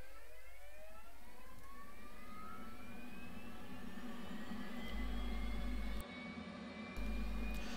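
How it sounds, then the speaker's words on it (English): F/A-18C Hornet auxiliary power unit spooling up in the DCS World flight simulator, a steady rising turbine whine with sweeping tones over a broad engine roar, loud and continuous, with no talking. "switch on the APU."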